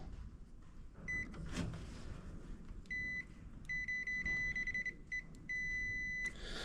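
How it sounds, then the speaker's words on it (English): A multimeter gives repeated short electronic beeps during a fuse continuity test on a 1850 vehicle's fuse holder, some single and some in quick runs, fairly quiet over a faint background hum with no talking. "Let's just do a continuity test."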